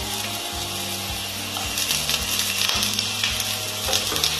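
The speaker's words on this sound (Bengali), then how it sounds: "আলুটা আমি এইভাবে লম্বা করে ঠিক আলু ভাজার মতো কেটে আলুগুলো এবার তেলের মধ্যে দিয়ে ভেজে নেব।" Long potato strips frying in hot oil in a kadai, a continuous close sizzle and crackle with irregular knocks and scraping over a low background hum, no speech.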